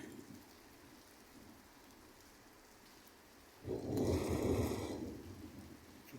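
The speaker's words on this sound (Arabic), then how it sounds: "أمطار الخير" Rain in Morocco patters softly at first, then a louder, close burst of downpour or thunder-like roar swells and slowly fades.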